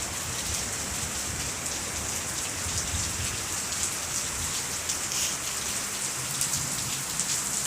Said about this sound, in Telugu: బాగా వాన పడుతుంది.